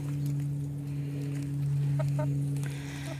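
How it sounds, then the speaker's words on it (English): A red rooster and golden Wyandotte chickens cluck softly in short bursts over a constant low electrical hum, the calls faint and brief, in a desert setting. "That's a red rooster right there."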